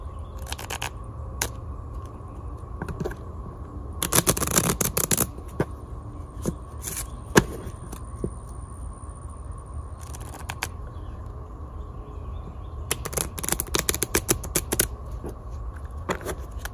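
Several short bursts of riffling playing cards, each a quick flutter of paper, separated by quiet pauses, close and fairly soft.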